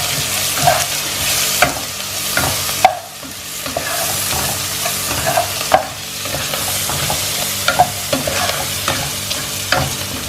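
Salt, turmeric and black pepper being stirred into a frying pan for Arab-style Maqluba, with a steady sizzle under repeated scraping strokes of a utensil, close and fairly loud, no talking.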